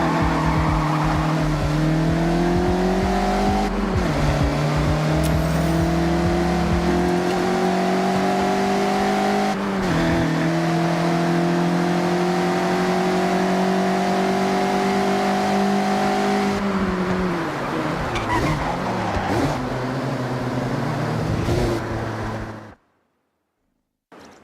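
A Mazda MX-5 drifting hard through corners in Forza Horizon: a loud, steady engine drone with rising and falling pitch as it slides, briefly dipping at gear changes before cutting off abruptly into silence.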